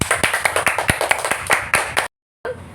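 A class of schoolchildren clapping together for themselves in a classroom, a loud run of quick hand claps that stops abruptly, followed by a brief gap and a short bit of room sound.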